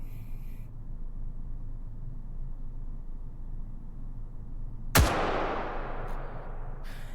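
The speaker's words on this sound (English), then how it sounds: "I'm going to shoot it myself because I'm pretty certain I can handle a 100-meter shot" A single sharp rifle shot fired at a 100-meter target in the VR shooter H3VR cracks out loud and close against a steady low hum, its tail fading over the next couple of seconds.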